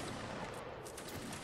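Continuous video game gunfire from a multiplayer battle, a dense, loud wash of overlapping shots with no gaps across the short stretch.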